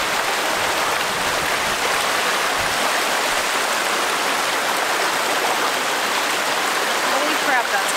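A glacier meltwater stream at the Mendenhall Glacier in Juneau, Alaska rushes in a constant broadband wash, close and steady throughout, while a sample is collected.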